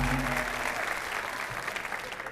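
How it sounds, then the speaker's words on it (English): A comedy club audience breaks into a round of applause, dense and sustained clapping from many people that carries on evenly, loud and close. "Give that man a big round of applause"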